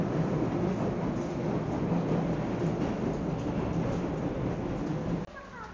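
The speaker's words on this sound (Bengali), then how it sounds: "বৃষ্টি এসে পড়েছে, অনেক বৃষ্টি" Heavy rain pours down with thunder, a dense, loud, constant roar that runs for about five seconds before cutting off abruptly near the end.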